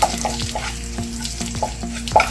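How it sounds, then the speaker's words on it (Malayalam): Garlic, shallots and curry leaves frying in a pan give a steady close sizzle, with a spoon or ladle scraping and stirring against the metal in a regular rhythm and no talking. "വെളുത്തുള്ളിയും ചെറിയുള്ളിയും എല്ലാം നല്ലപോലെ മൂത്തിട്ടുണ്ട്."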